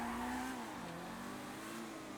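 A getaway car in Grand Theft Auto V drones with a steady engine hum and a slight drop in pitch, quiet and continuous over a brief moment with no talk.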